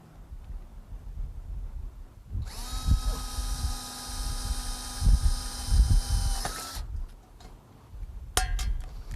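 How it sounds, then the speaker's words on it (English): A power drill bores into a metal greenhouse wall post, a high steady whine lasting about four seconds, then stops, followed by sharp metallic clicks and clinks from riveting. "We're going to drill and rivet using 2 short rivets from the inside out."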